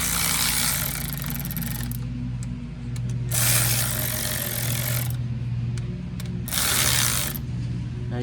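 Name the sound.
cordless ratchet on a Silverado brake caliper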